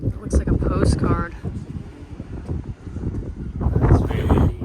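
Gusty wind buffets the microphone at a high viewpoint by Siena Cathedral, a steady low rumble throughout with people talking over it.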